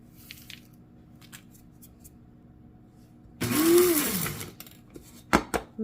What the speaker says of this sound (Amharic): አሁን ፈጫዋለሁ በቡና መፍጫ።